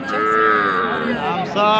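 A Sahiwal cross calf or cow moos loudly and close at Raniganj cattle market, one long drawn-out bellowing call filling the clip, with a short break before it resumes.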